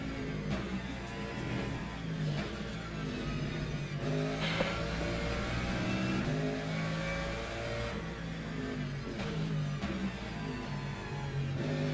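A McLaren race car in Le Mans Ultimate at Imola at night, its engine roaring steadily and rising as it accelerates, with other cars' engines layered in the mix.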